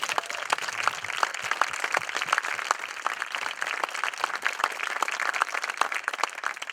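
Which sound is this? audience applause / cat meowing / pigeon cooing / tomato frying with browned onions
audience applause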